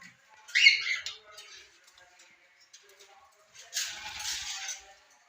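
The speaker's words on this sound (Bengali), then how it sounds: "এ হচ্ছে আমার আরেকজন ককাটেল।" A pet cockatiel gives two bursts of shrill squawking, a short harsh call early and a longer one near the end, close and fairly faint in an otherwise quiet room.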